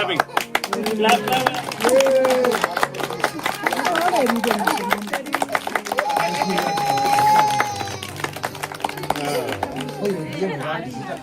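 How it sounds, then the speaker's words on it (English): Many children in Burundi clap in a rapid, uneven patter while young voices shout and chatter excitedly around it, close and lively throughout. "Okay, clapping."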